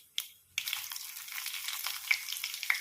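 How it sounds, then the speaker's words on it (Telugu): Fenugreek, cumin, mustard seeds, chana dal, asafoetida and dry red chillies frying in about two tablespoons of oil in a small kadai for a tempering: a steady, close, crackling sizzle that starts after a brief pause and continues without talk. "తాలింపు కోసం స్టవ్ మీద చిన్న కడాయి పెట్టుకొని అందులో ఒక 2 టేబుల్ స్పూన్లు ఆయిల్ వేసుకోవాలి"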